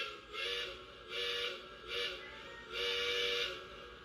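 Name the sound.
Lionel model train locomotive whistle, factory setting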